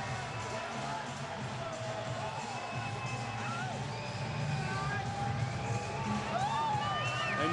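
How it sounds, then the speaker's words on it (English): A large boxing arena crowd roars and cheers continuously for Mike Tyson before his fight with Corey Sanders, with a dense wash of voices and whistles swelling slightly toward the end. "listen to the crowd for the former heavyweight champion of the world"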